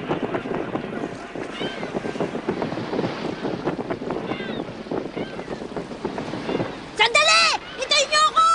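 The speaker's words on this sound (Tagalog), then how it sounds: "Masyado na yata mabilis itong barko ah." A sailing ship surges across the sea in the Hunter x Hunter anime, with rushing wind and water noise running under animated voices that talk and shout throughout.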